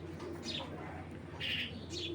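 A pair of white racer pigeons coo softly and faintly in short repeated calls over a low background hum.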